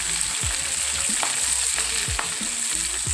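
Homegrown Chinese cabbage leaves fry in a hot pan, a close, steady sizzle with several soft scraping strokes and spatula taps across the few seconds.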